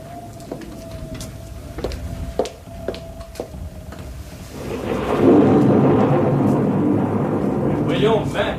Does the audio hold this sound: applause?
no